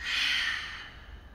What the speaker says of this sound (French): On inspire par les 2 narines et on lâche tout d'un coup par la bouche.